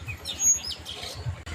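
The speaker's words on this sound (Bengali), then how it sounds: "পাখির কিচির মিচির ডাক।" Birds chirp in quick, high tweets over a steady low rumble, like a passing engine nearby.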